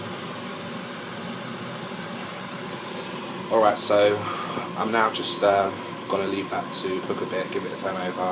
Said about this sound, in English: I'm sorry about the noise of the extract fan in the last segment.